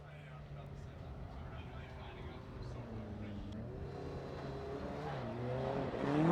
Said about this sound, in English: this again is a sight lap here for Frederick Aasbo. The Rockstar Energy Drink Next in Tires, Toyota Corolla hatchback